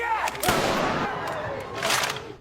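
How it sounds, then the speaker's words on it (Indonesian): Several sharp warning pistol shots crack out, a couple of seconds apart, loud and close, amid tense background noise in the series Squid Game. "para staf langsung menembakkan pistol peringatan"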